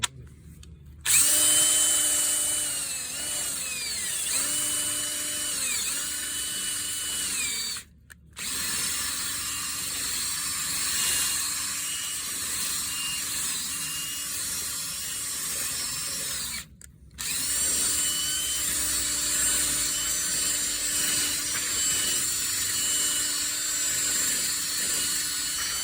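A power drill spins a 1-inch wire bristle brush inside a broken water heater drain valve, a loud, sustained whine that rises and settles through three long runs separated by brief stops, with no talking.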